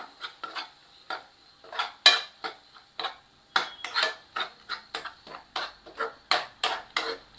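A spoon scrapes around a pot in quick, regular strokes, mixing coriander powder into a simmering kola urundai kuzhambu. The close, crisp stirring repeats roughly twice a second.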